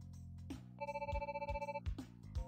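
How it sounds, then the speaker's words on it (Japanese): A phone rings in a mobile werewolf mystery video game, a steady trilling electronic ring lasting about a second over soft background game music and thumps. "着信ですね。"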